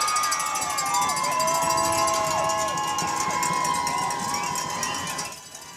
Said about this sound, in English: they're just getting the crowd all fired up